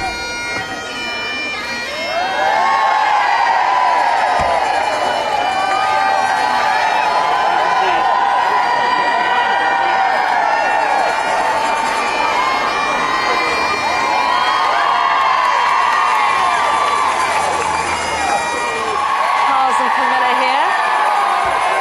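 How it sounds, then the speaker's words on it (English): A crowd of several hundred packed behind barriers outside the historic Canongate cheers and whoops loudly and without a break, with shrill shouts rising over the steady roar. "They're eliciting the biggest cheer yet from a crowd of several hundred packed behind their barriers just outside the historic Canongate."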